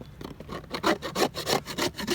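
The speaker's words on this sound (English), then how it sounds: "the paint scraper just to scrape out most of the remaining wax on the sides of the frames, on the top and bottom bars" A paint scraper grinds wax off the sides, top and bottom bars of plastic beehive frames in quick, evenly paced rasping strokes, close and loud, about a dozen scrapes in a steady rhythm.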